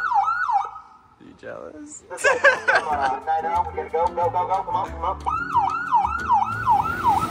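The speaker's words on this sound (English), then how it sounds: "The sirens are just loud." Sirens from a real police car wail in repeating rising and falling sweeps, interrupted by a burst of mixed noise and a short spoken question, then the wailing resumes.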